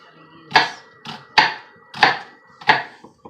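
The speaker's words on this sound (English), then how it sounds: "So just chop the onion." A knife chops a red onion on a wooden board in five sharp, evenly spaced strokes, close and clear with quiet pauses between them.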